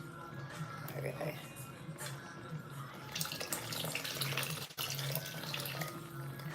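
Liquid is poured into a pot of Ghanaian stew, a running, splashing stream with a short break near the end, heard beneath someone talking.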